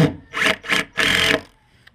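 Three bursts of buzzing, grinding whir from a power drill driving screws up into holes in a wooden can shelf, close and loud, the last burst longest, then quiet.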